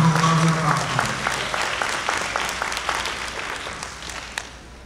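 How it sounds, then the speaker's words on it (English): Audience applause at a charity breakfast, honoring firefighters, rings out loudly from the start as dense clapping from a room full of people, gradually thinning and fading over a few seconds. "Give a round of applause."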